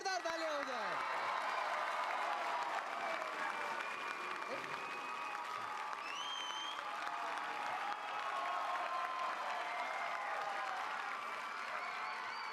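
Studio audience on the TV talent show X Factor India claps steadily for a singer, a dense, even wash of applause running the whole stretch with faint music and voices threaded underneath.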